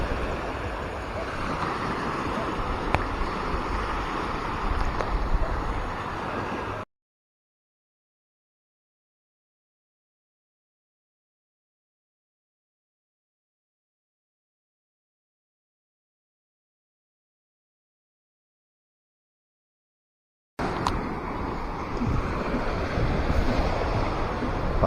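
Calm sea waves wash along a seashore at low tide, a soft steady surf with wind buffeting the microphone, heard in two stretches separated by a long silence.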